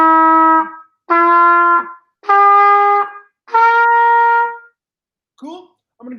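A trumpet plays a slow scale in four long sustained held notes separated by short gaps, loud and close, followed by a couple of brief fragments, with no talking.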